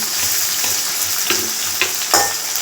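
Onions sauté in a pan for masala dosa filling, giving a steady loud sizzle with occasional scrapes and taps of the stirring spoon against the pan.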